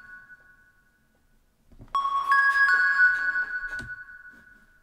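Synth lead built from a triangle wave with heavy reverb in Ableton for a piano house track, clean sustained digital tones stepping between a few pitches, fairly quiet and alone.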